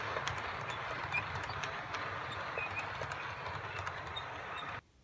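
An OO gauge model train runs on a harbour layout, a steady close rattling clatter of wheels over track joints that carries on evenly before cutting off abruptly near the end.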